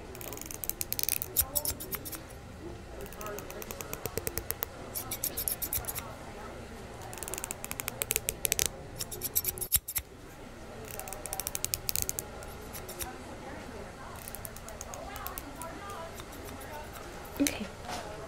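Barber scissors snip hair in rapid bursts of sharp, close metallic clicks, pausing and resuming across the cut, while a person talks quietly throughout.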